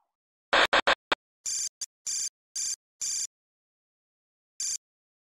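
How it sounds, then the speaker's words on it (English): A ship's man overboard electronic alarm sounding in short harsh bursts, a quick cluster of beeps then longer evenly spaced blasts separated by silence. "The man overboard alarm goes off."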